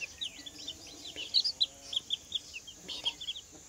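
Chicks and hens on a farm keep up a run of high, quick peeps and soft clucks in short irregular bursts, close by and with no one talking.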